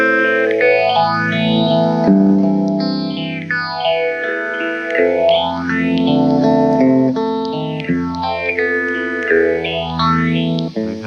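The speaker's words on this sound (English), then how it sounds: "It's a very nice little phaser," An electric guitar runs through a Foxx phaser pedal set to maximum feedback, its chords swept by deep, repeating phase whooshes that rise and fall steadily, loud and continuous with no voices.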